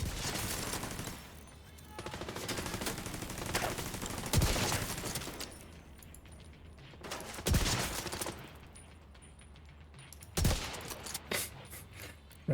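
Sniper rifle shots ring out in a video game, about four sharp cracks spaced a few seconds apart, each followed by a short echoing tail over a quiet, low background.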